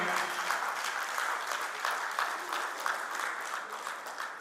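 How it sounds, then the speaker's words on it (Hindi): Applause fills an auditorium at a book launch ceremony, a steady wash of many hands clapping, somewhat distant and soft, continuing evenly without any speech. "अब इस क्रम में तालियों से इस सभागार को गुंजायमान रखें"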